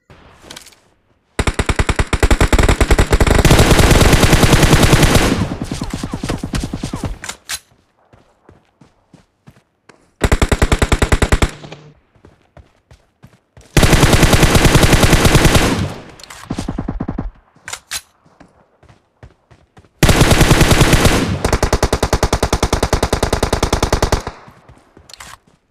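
Loud bursts of automatic gunfire in the video game BGMI (PUBG): three long rapid volleys separated by pauses, with quieter single shots and footstep-like taps in the gaps.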